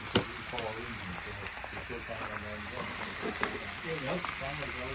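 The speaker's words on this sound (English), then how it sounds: "And we carry on frying this." Garlic and broad beans sizzle and crackle in a hot pan for paella, a steady frying hiss with small pops, while people talk over it.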